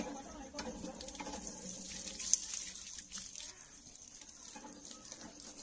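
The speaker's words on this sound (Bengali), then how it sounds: "হাত ধুচ্ছি হাত ধুয়ে নিচ্ছি" Hands are washed under running tap water at a home before a meal, a soft, fairly distant trickle and splash that continues without break, with faint background murmur.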